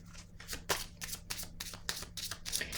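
Tarot cards riffle and slap in a close, steady series of shuffling bursts, each a crisp papery rush, with no voice over them.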